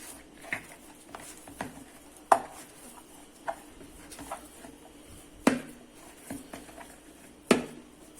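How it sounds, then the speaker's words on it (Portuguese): Malt bread dough being kneaded by hand, with soft irregular slaps and thumps against a work surface at uneven intervals over quiet kitchen background, moderately close and without talk. "Então nós vamos sovar a massa."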